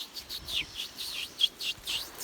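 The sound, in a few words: person imitating a lyrebird call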